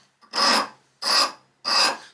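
Three rough, rhythmic strokes of a rasp filing a wooden saw handle, each a loud close scraping burst about half a second long with short pauses between.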